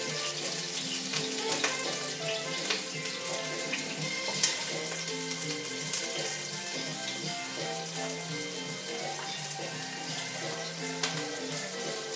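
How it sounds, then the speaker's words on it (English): Onions and garlic frying over medium-low heat in a pan for an Ethiopian cabbage dish: a steady, bright sizzle that runs without a break, with occasional small clinks and stirring sounds. "the onions and garlic medley is going in the pan. I've turned it down to a medium-low heat."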